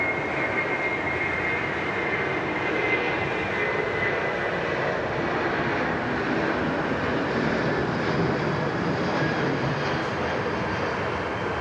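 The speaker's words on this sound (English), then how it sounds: "make sure you enjoy yourself this beautiful A330 departure off to Cairns" Airbus A330 departing Sydney Airport bound for Cairns, a steady, loud jet engine roar sustained throughout with no talk.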